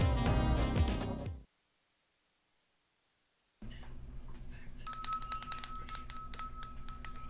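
A bell is rung repeatedly, its bright, sustained ringing tones layered over a low steady hum after a stretch of silence, preceded by a short burst of music that cuts off abruptly.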